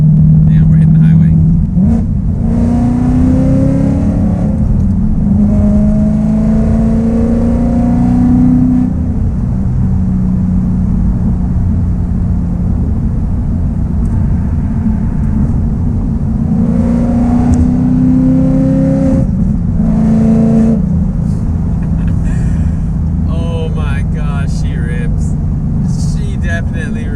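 Engine of a 2019 Ford Mustang fitted with headers and an X-pipe, a loud, steady exhaust rumble with rising revs in two acceleration pulls, heard from inside the car throughout.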